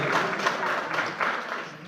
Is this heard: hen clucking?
no